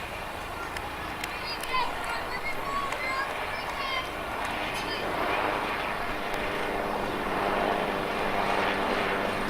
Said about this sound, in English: That's one of the Army's helicopters. And it's carrying a water scoop underneath it